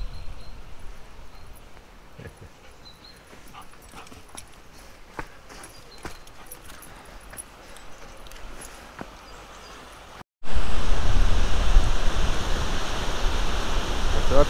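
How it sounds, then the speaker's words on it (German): A rushing mountain stream in Andalusia roars loudly and steadily, heard close up after a quieter stretch of faint background noise and scattered light knocks, with no talking. "Das hört sich doch schon wieder nach rauschendem Bach an."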